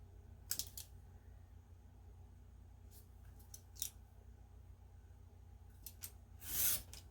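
Scissors trim a little off both sides of a strip of material about four inches wide, giving a few separate crisp snips spread apart, close by, with no talk.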